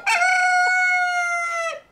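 A rooster crows once, loud and close, with a sustained strained call lasting under two seconds and no other sound around it.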